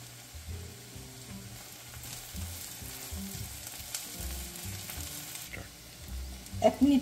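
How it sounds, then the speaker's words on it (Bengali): Chopped ginger and green chillies fry in a pan for a broccoli mash, a steady close sizzle with occasional stirring scrapes and a few louder clinks near the end. "আদা কুচি দেব, এটাও 1 মিনিট মতো ভেজে নেব।"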